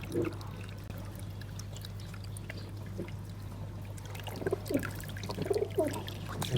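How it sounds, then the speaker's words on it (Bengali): A pigeon water container is being filled from a low-pressure tap, with a soft continuous trickle that grows busier and more splashy toward the end, all beneath a steady background hum. "পানি ভরা হয়ে গেল"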